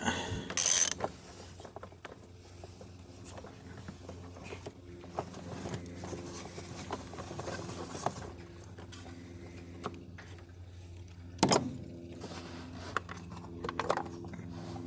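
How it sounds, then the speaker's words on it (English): Quiet mechanical ratcheting and metallic clicks from a ratchet and extension undoing the oil filter cap on a Mercedes W124, with irregular taps and a few sharper knocks, close and faint. "So then we'll take an extension like this and just simply undo it."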